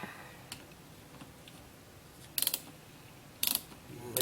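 Ratchet tightening master cylinder bolts on a Saturn SC2, quiet clicking with two short bursts of rapid close ratcheting, no talk.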